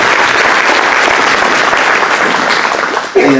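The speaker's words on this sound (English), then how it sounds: "Give them a round of applause." Audience in a meeting room applauds a city team, a steady, dense wash of clapping throughout that cuts off near the end.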